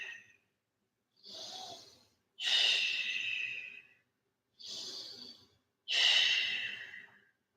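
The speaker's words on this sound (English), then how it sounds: "Exhale completely." Slow, deep breaths during a yoga flow, four long audible inhales and exhales close to the ear, alternating with short silent pauses and no talking.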